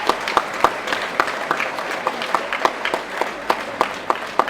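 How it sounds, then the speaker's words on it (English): Audience at a school prize giving clapping for an absent drama award winner, a moderate, sparse-sounding round of applause with distinct individual claps at a steady pace, no speech over it. "let's give him a round of applause"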